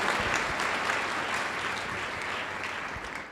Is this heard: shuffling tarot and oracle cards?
no